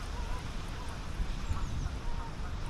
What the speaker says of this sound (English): You can see all the ducks and the waterfowl.